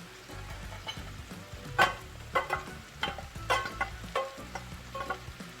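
Saltfish and tomato being mashed and mixed in a pot, a series of close, wet squelching presses and scraping strokes coming in an irregular rhythm over a faint sizzle.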